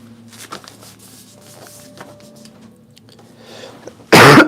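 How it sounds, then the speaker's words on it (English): After a few seconds of quiet room noise with faint shuffling, a single loud cough lands right into a close microphone, harsh and overpowering. "I probably just coughed right into my microphone."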